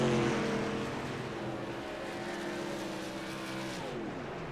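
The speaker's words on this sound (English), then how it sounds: "Hear him clutching it, shutting the motor off in 3 and 4" Modified tour race car at Lucas Oil Raceway, clutched with the motor shut off to coast home on fumes through turns three and four, a steady fading engine drone with falling harmonic tones, continuous and fairly loud throughout.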